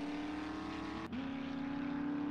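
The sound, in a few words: moving vehicle in the video game 7 Days to Die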